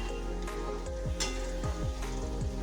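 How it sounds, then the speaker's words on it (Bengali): Spices sauté in a pan for chicken curry with a steady, close sizzle, broken by short stirring scrapes over a constant low hum. "মাঝারি টু হাই রেখে ভালো করে সমস্ত মশলাগুলোকে কষিয়ে নেব।"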